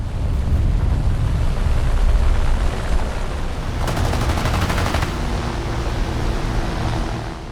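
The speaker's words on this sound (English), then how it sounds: "A fierce low-level dogfight broke out." A loud, continuous roar of aircraft engines from a low-level dogfight between Brewster Buffalo fighters over Malaya in 1941, broken by one rapid machine-gun burst lasting about a second.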